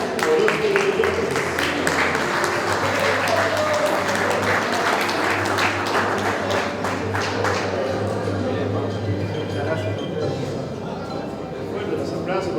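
Applause and scattered clapping from an audience at a graduation ceremony for motorcycle and vehicle mechanics students, continuous with a low hum and background voices, fading near the end.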